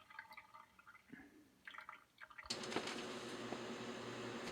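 Tap water runs steadily from a faucet into a reverse osmosis tank after new filters are fitted, a quiet trickle that jumps to a louder, constant rushing flow partway through.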